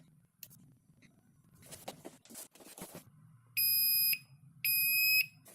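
A DIY electronic countdown timer alarm kit, a red 60-second rotary clock run from a power bank, gives two loud, steady electronic beep bursts of about half a second each after some handling clicks.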